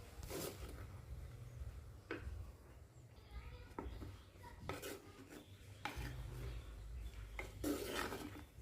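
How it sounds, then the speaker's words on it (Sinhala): A spoon stirs a potato curry with coconut milk in a cooking pot, making intermittent scraping and rubbing strokes against the metal over a low background hum. "ඉතින් මම මෙන්න මේ විදිහට දිගටම මේක හැඳි ගන්නවා"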